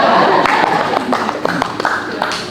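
An audience at a photography workshop clapping, fairly close: the applause starts dense and thins into scattered individual claps and taps, with murmured talk underneath.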